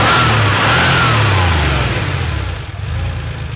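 An air-cooled Porsche 911 engine revs with a low, churning whir that swells and dips, loud and near at first, then easing off slightly toward the end.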